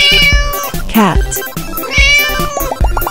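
A cartoon cat in a 3D animal slides video game meows several times in quick succession, loud and close, the bright, drawn-out cries overlapping slightly with game sounds.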